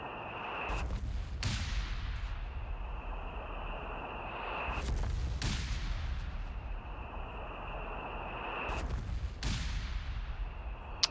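Artillery barrage shells in Company of Heroes 3 pound sandbags and a decrewed anti-tank gun, three sharp detonations a few seconds apart, each bursting over a steady rumbling battlefield din with a thin sustained tone running underneath.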